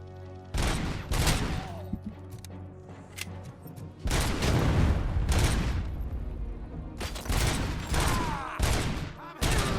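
Gunfire in the video game Robocop Rogue City: loud, heavy bursts of shots in repeated volleys with booming impacts, filling most of the clip with only short gaps between barrages.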